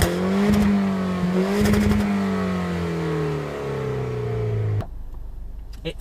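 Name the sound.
Citroen DS3 Racing turbo rasps and exhaust pops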